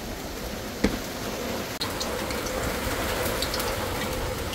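Koi fish frying in hot oil throws off a steady, close crackling splatter of water like heavy rain, with a single sharp knock about a second in and a brief dip just before the two-second mark.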